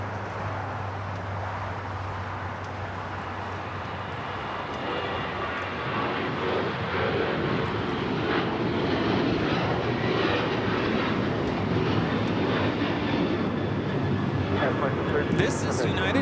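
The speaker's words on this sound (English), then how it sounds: "This is United Airlines 2732 taking off to Denver, Colorado on the 737-900ER" United Airlines Boeing 737-900ER jet taking off at LAX, a broad roaring engine noise building in strength and holding steady, heard at a distance.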